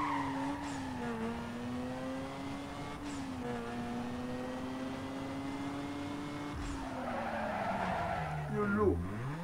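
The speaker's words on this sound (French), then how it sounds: "on va prendre la voiture de Pupute et puis on va essayer d'aller voir un petit peu ce qu'on peut en faire" A powerful car in the Need for Speed racing game revs and drives with a sustained engine whine, shifting pitch as it accelerates, then its tires squeal in a brief skid near the end.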